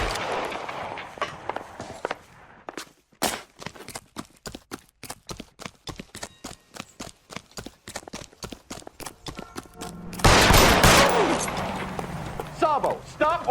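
Gunfire in the video game L.A. Noire, a long run of sharp, regularly spaced shots followed by a louder chaotic burst of noise, with voices talking over parts of it.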